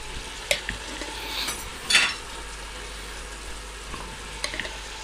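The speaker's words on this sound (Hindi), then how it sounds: "अब इनको अच्छी तरह भून लेते हैं" Whole black peppercorns and chilli flakes are stirred and roasted in a pan, giving a faint dry sizzle with a few sharp scraping clicks of the spoon.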